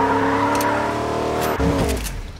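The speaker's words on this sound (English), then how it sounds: "I hear a car." A car engine in the Fortnite video game runs steadily and close by, then revs and shifts pitch briefly before fading near the end.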